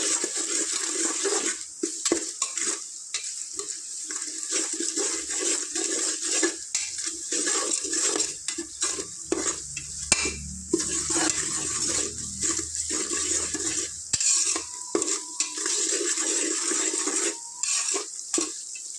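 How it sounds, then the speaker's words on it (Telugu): Turmeric frying in oil in a pan for a mutton curry gives a constant, close hiss of sizzling with occasional clatter from stirring. "ఇది ఒక టూ మినిట్స్ ఇలా ఫ్రై చేసుకున్నాం"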